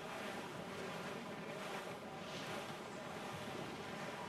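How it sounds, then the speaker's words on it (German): Ocean waves and gusting wind while sailing a ship through stormy seas in Assassin's Creed 4, a continuous broadband wash of surf and wind noise with no talking. "Oh, Wellengang, das gibt doch wieder Sturm hier."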